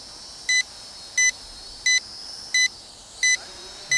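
Six crisp, evenly spaced electronic beeps come from the handheld transmitter of a JJRC H68G Bellwether2 GPS toy drone, repeating roughly every 0.7 seconds above a quiet, steady hum.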